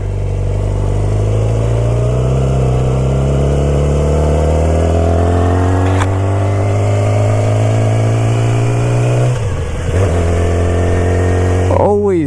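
A 2006 Yamaha R6 50th Anniversary edition sportbike rides along, its engine note climbing steadily through the gears with smooth rising pitch, loud and close, easing off near the end before a brief rev.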